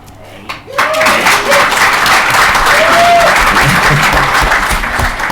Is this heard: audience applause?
yes